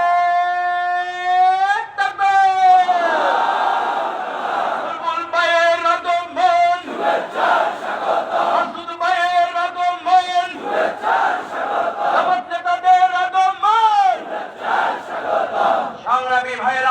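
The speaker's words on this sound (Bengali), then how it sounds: "সবাই মিলে কি আমরা একটা স্লোগান ধরতে পারি?" A political rally crowd in Lakshmipur, Bangladesh chants slogans in loud call-and-response bursts, a lead voice calling out and the mass of voices answering in rhythmic waves.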